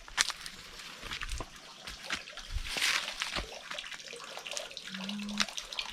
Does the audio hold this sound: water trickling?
yes